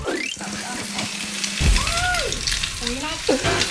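Thai omelette with spring onion and sliced pork sausage sizzles in hot oil, a close crackling fry with stirring and scraping of a utensil in the pan.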